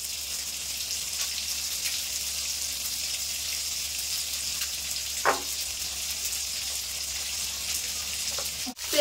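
Fish heads frying in hot oil for a pumpkin curry, giving a steady, moderately loud sizzle throughout, with a couple of brief clicks and a sharper knock near the end.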